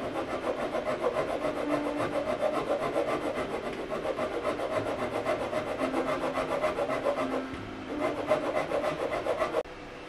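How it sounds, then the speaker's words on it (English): Wooden cleats for an old acoustic guitar are being shaped by hand, giving close, steady rasping and rubbing strokes in a quick regular rhythm, with a brief pause near the middle and a stop just before the end. "Making cleats to go along the centre line of the guitar."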